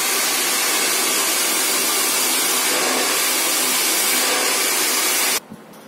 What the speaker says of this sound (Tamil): ஸோ ப்ளோ ட்ரை பண்ணும்போது நம்ம 80 டிகிரிஸ்ல எடுத்துப்போம்.